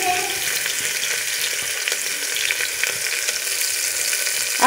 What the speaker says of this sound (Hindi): अब प्याज को भी यहाँ पे हम सौटी कर लेंगे।